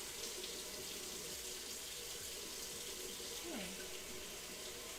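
A kitchen tap pours a steady stream of hot water into the sink, a close, unbroken rushing splash with a brief faint sound near the end.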